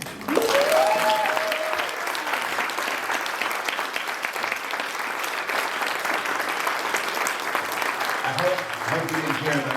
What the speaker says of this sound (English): had a big round of applause